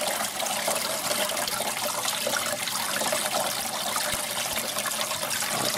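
Water trickling from a small leak over a baffle, a steady close-up splashing and dribbling wash that runs without a break for the whole stretch.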